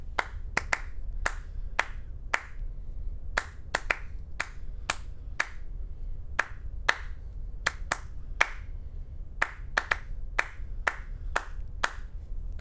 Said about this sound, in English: I'm going to clap a song